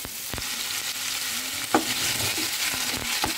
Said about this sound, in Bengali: আলুটা আমি 2 মিনিটের মতো ফ্রাই করে নেব।